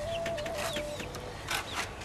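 Backyard chickens fed compost call out in a small flock, with short clucks and higher chirps and a brief warbling call over a dense, steady outdoor hum, close and moderately loud, with no voices.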